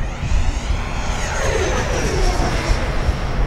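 An E-flite Viper 90mm EDF RC jet flies past, its ducted fan giving a loud, steady rushing whine whose pitch sweeps as it passes close overhead.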